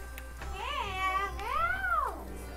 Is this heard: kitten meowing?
yes